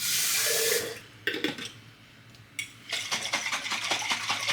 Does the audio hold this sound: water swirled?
yes